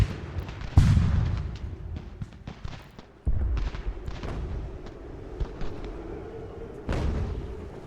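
Artillery and musket gunfire in the strategy game Ultimate General: Revolution, scattered booms and cracks at moderate distance, a few heavier blasts standing out over a low rumbling battle background.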